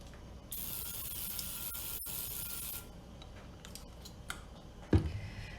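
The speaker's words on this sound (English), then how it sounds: "I'm gonna start with a spritz of my olive oil in my pan." Olive oil spray spritzed into a pan in a home kitchen, a bright hissing burst lasting about two seconds, followed by light scraping and a soft knock near the end.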